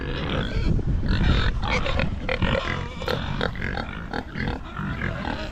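Several pigs grunt and oink on a farm in a morning pen, a close, busy stream of rough snorts and grunts with rustling, and no clear speech.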